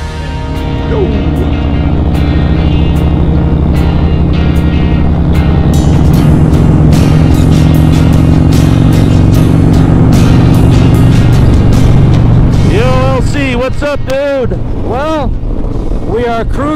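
Harley motorcycles cruising along an open road toward Durango, a loud continuous engine drone with heavy wind rush up close, easing off near the end where shifting tones and other noises come through.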